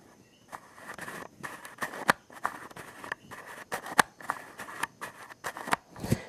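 Rapid, irregular clicking and faint grinding ticks repeat close by as a damaged Yongnuo camera lens focuses, a dry mechanical creak with no voices present.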